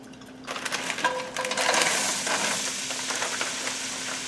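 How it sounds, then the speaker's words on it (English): Mixed vegetables such as peas, French green beans and zucchini quarters stirred in hot oil in a pan: a bright continuous sizzle with a few scraping strokes of the spoon, close and fairly loud. "Go ahead now and stir these up."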